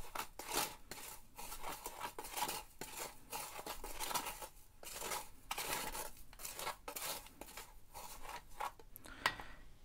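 Stirring a stove putty mixture of burnt eggshell and salt, giving quiet, close, rhythmic scraping and gritty rubbing strokes that repeat steadily through the stretch.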